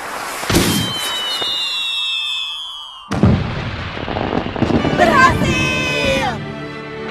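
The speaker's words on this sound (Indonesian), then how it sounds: "Sekarang kita bisa lihat kembang api" Cartoonish fireworks in a Doraemon cartoon whistle up and burst in a quick series of pops and booms, loud and close, with sparkling crackle trailing after each blast.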